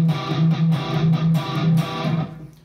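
Distorted electric guitar plays a metal-style inverted power chord, voiced with the third instead of the fifth, rung out in four repeated strums with short gaps before a final chord decays. No talking.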